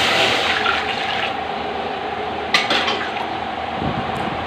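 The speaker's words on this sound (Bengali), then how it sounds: "কড়াই দিয়ে দেবো জল।" Water poured into a wok (kadai) set on the stove for a cabbage and crab curry: a loud, close, steady rushing pour that eases off toward the end, with no talking.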